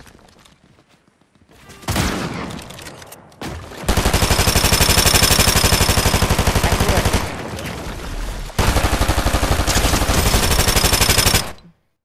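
Gunfire during a Fortnite replay, loud sustained bursts of rapid shots that roll in long dense stretches with a brief gap between them, heard with no talking.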